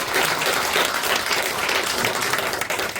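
A congregation applauds at a church sermon, dense sustained clapping from many hands filling the room, loud and continuous throughout.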